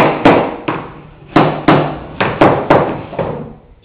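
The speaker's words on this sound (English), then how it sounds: "Use a tapping block or another piece of wood." Repeated sharp taps of a tapping block driving a wood flooring board into place during a basic floor installation, about ten close, loud knocks at an uneven rhythm, each with a short woody ring.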